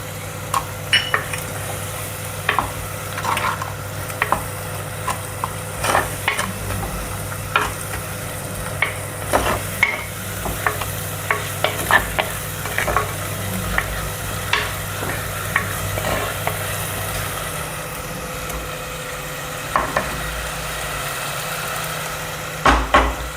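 Ginger garlic paste fries with onions in a clay pot, giving a steady sizzle broken by frequent scraping clicks of a spoon stirring against the pot, close by.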